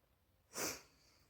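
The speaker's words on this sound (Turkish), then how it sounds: "İki de bir burnumu çekiyorum." A single short, breathy sniff through the nose, close and fairly quiet.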